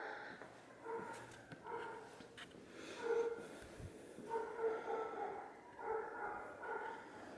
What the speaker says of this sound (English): all the dogs are really annoying